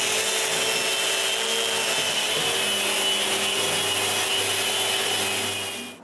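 Power sanding of a wooden bandsaw base, a loud, steady, abrasive whir and hiss running continuously, then tapering off at the end.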